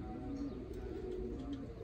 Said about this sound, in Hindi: ये सियाल कोटी काले चपड़े दैयड़ कहलाते हैं, शिकरे भी कहलाते हैं, सियाल कोटी कबूतर।